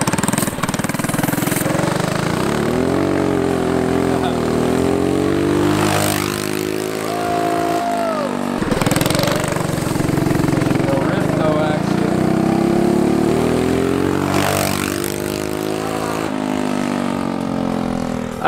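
Turbocharged go-kart engine running warm-up laps on a drift kart, with a buzzy drone that rises and falls in repeated sweeps as the kart accelerates and lets off, fairly close and loud.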